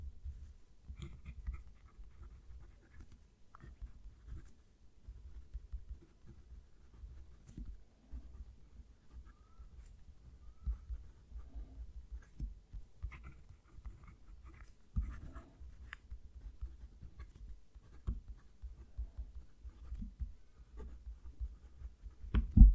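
A Fuliwen fountain pen nib writes steadily across paper, a soft, close scratching and gliding with faint irregular strokes and pauses over about twenty seconds, no voices.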